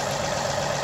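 A John Deere 3038E compact tractor engine idling in a shop, a steady close diesel drone with no change over a brief moment.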